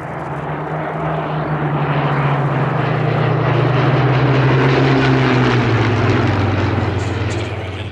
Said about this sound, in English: Hurricanes turns off the base leg onto finals